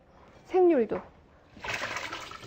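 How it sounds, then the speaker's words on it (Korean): Soaked sweet potatoes are tipped into a sieve, and water rushes and trickles through it for about a second near the end. A voice speaks briefly just before. "요거를 이렇게 체에 받치도록 할게요."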